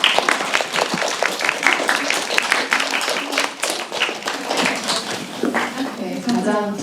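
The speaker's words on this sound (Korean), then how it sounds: "네, 박수 부탁드립니다." Audience applause rings out at a Marie Claire film festival awards ceremony in Korea, a steady wash of many hands clapping for several seconds with scattered louder claps, moderately loud and continuous.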